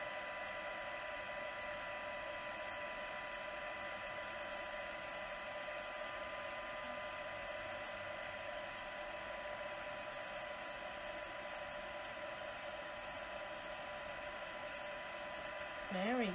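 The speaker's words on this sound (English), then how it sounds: "because I had to have the heat tool in the way" Heat tool blowing steadily to puff embossing paint on a papercraft accent, a constant whirring hum of fan and heater running alone and fairly faint throughout.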